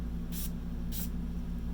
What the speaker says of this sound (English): You just kind of shake it up and spray it